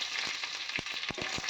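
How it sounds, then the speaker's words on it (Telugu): Dried red chillies and curry leaves fry in hot tempering oil with mustard seeds and cumin, a dense hiss crackling with several sharp pops, close up and without voices. "ఆ తర్వాత ఎండుమిర్చి కరివేపాకు కూడా వేసుకున్నాను."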